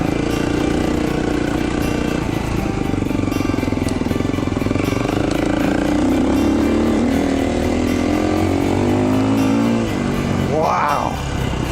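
A 2011 KTM 350 XC-F dirt bike engine drones steadily up close on a trail, its pitch climbing and falling as the rider accelerates, with a sharp rev near the end.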